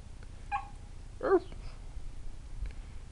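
A kitten gives a couple of short, faint meows close by over a low background hum, with a brief pause between them.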